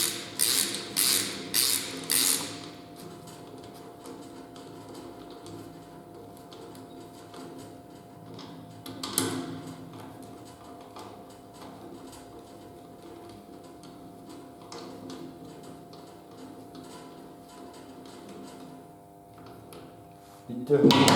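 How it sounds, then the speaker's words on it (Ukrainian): Engine repair with connecting rod and main bearing shells being replaced: bolts are tightened and the crankshaft is turned, giving a few sharp metallic clicks at the start, then quiet mechanical ticking and creaks, with a louder knock near the end. "Підтягнути болти, пробуємо провернути колінчастий вал."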